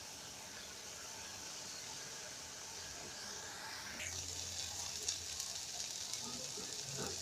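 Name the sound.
frying taro leaves and small fish being stirred in a pan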